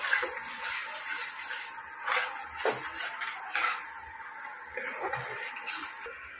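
A spoon stirs and scrapes a cooking pan of Bengali goat-neck meat chochchori after sauce is added, giving repeated metallic clinks and wet scraping strokes in an irregular rhythm at close range.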